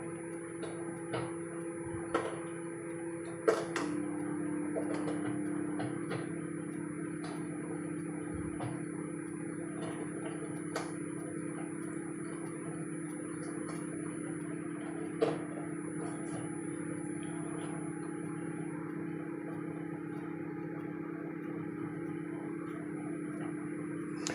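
A repaired microwave oven runs after being switched on. A steady low electrical hum carries on throughout, with a faint, regular ticking of the timer and a few scattered clicks heard close up.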